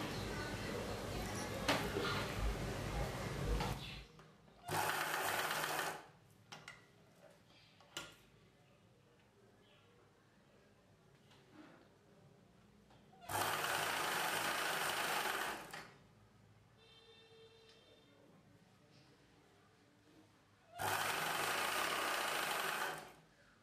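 A sewing machine stitches a blouse lining in three loud bursts of a few seconds each, with quieter gaps of cloth handling and faint ticking between runs.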